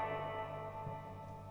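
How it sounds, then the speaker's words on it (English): A Fender Blues Deluxe guitar amp rings out with a sustained, washy spring reverb tail at a low reverb setting, the held tones decaying softly with no playing or voices on top. "This reverb, just check out this reverb."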